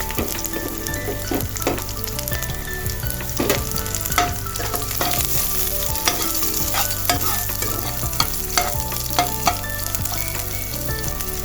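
Ginger and garlic, with bay leaves, frying hard in hot oil in a steady loud sizzle, crackling throughout with repeated scraping stirs of a spoon against the pan.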